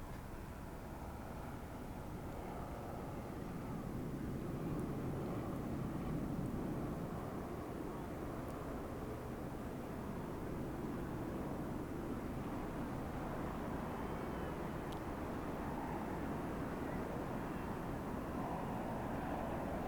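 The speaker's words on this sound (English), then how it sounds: "shuttle carrier aircraft and Endeavour about to fly overhead" The Boeing 747 shuttle carrier aircraft, carrying Space Shuttle Endeavour, passes overhead above a beach as a steady, broad jet roar. The roar swells gradually and holds at a distant, sustained rumble throughout.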